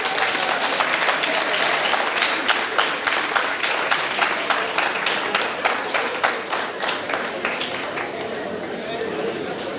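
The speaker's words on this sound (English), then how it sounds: "A huge round of applause" Audience at a panel discussion on education applauds the panelists, a broad crowd clapping with distinct individual claps standing out, loud at first and gradually thinning toward the end, with voices faintly underneath.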